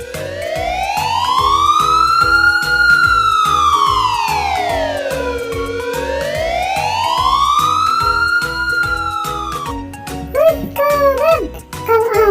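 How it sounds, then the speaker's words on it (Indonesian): A toy fire truck or ambulance siren wails, sweeping slowly up and down over a repeating beat, loud and close, ending with a few short chirpy electronic sounds. "kasih tahu kepada teman-teman bagaimana bunyi sirine kalian"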